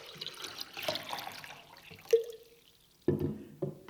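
Water splashes and trickles into a vase holding a hand-tied Valentine's Day bouquet with flower food, in short bursts with a sharp drip between them, close and fairly quiet.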